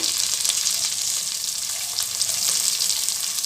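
A spoonful each of cumin seeds and pepper sizzle in hot oil, giving a steady, close, hissing crackle that runs unbroken and undisturbed by talk.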